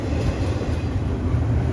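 CSX freight train rolling along the Henderson subdivision in Kentucky, a steady low rumble of wheels and cars passing continuously at moderate distance with no voices.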